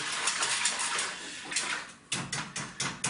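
Mac and cheese sauce stirred in a pot, a spoon scraping and clinking against the metal in quick close strokes, steady at first and then in a few distinct taps.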